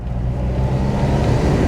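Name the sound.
van engine pulling in second gear uphill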